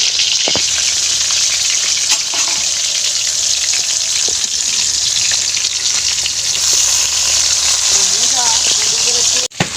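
Cut pieces of fish fry in a pan in a home kitchen, giving a loud, steady, close sizzle that hisses without break for nearly ten seconds before cutting off abruptly.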